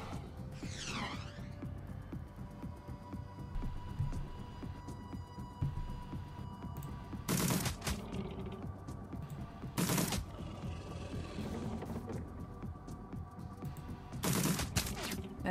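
Gunfire in the video game Shadowrun: Dragonfall, three sharp loud bursts of shots spaced several seconds apart over a steady hum of game music and ambience.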